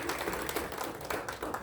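An audience claps loudly in a brisk, continuous patter for a short stretch, with no speech over it.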